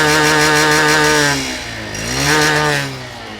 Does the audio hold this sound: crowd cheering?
no